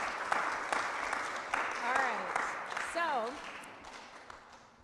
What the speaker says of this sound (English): So give our guests a round of applause and welcome them.